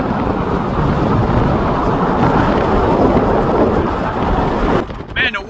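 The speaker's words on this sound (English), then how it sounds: "Man, the wind's blowing." Strong wind buffets the microphone on a bridge in San Francisco, a steady roaring gust with heavy low rumble that lasts several seconds before easing near the end.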